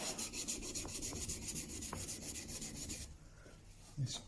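The back of a Japanese power-grip carving chisel is flattened on a 10k waterstone, giving a continuous rhythmic rasping scrape of steel rubbed back and forth across the stone, close and fairly quiet.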